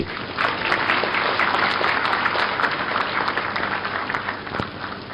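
An audience at a Uganda–Tanzania business forum applauds Ugandan President Yoweri Museveni, with dense sustained clapping from a large crowd in a hall, steady and loud for the whole stretch, no speech over it.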